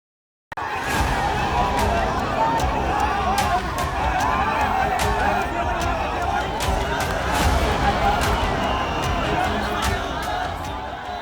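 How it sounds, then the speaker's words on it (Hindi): A large crowd gathered in Budgam for Dr. Shahnawaz's funeral makes a dense, steady roar of mingled voices and movement, loud and continuous, with scattered sharp knocks. "बड़गाम में उमड़ी भीड़ की ये तस्वीरें डॉक्टर शाहनवाज के जनाजे की हैं"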